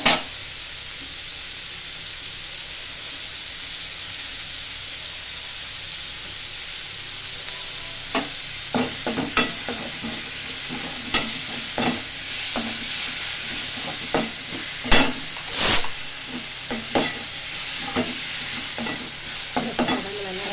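Onions sautéing with salt in a pan keep up a steady frying hiss, then a long run of repeated spoon scrapes and knocks against the pan as they are stirred.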